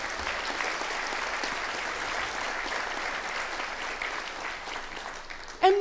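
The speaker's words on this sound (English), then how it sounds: "Give them a round of applause" A seated audience at a business meeting applauds in a steady, moderately loud round of clapping that holds evenly, ending with a brief sharp sound just at the close.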